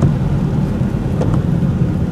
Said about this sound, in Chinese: 大雨哗啦啦的持续的下